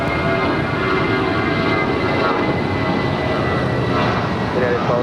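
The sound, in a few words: airplane departing at Los Angeles LAX airport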